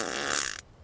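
A short, airy fart lasting just over half a second, close and fairly loud, then cutting off into quiet; heard at a wilderness campsite near the Wisconsin Dells.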